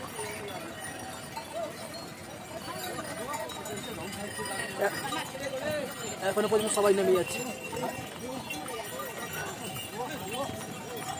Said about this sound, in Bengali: ঘোড়াতে প্রত্যেকে নামছে